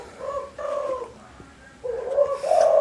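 A spotted dove or zebra dove coos close and loud in three soft, rounded phrases separated by brief pauses, with nothing else competing.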